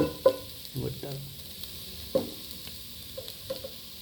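Split chickpeas and urad dal roast in a pan, giving a faint sizzle with a few sharp stirring scrapes and clicks spaced through the quiet, close by.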